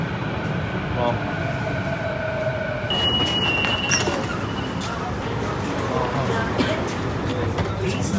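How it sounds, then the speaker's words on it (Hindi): Metro train pulling into a platform on a Delhi airport line, a steady rumbling roar with a brief high squeal and a chime partway through, while a nearby voice speaks briefly over it. "ट्रेन आ गई।"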